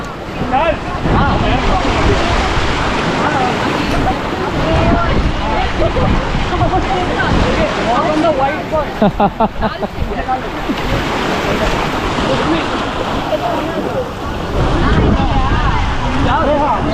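Sea waves off Lakshadweep wash and churn in a dense, continuous surf roar mixed with wind gusts, with people talking under the noise now and then.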